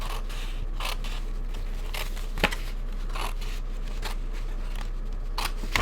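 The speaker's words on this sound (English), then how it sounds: "Let's cut that line." Scissors cutting along a line in paper while making a gift card holder, a few soft snips spread across a quiet stretch with one sharper click near the middle.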